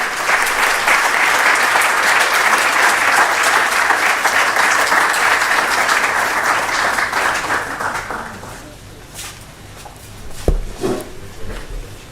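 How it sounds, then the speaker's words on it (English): Conference audience at an annual research meeting in Ghana breaks into sustained loud applause to welcome a professor, the clapping holding steady for about eight seconds before fading, followed by a few scattered knocks. "with a round of applause, shall we welcome Professor Alfred Edwin Yossi"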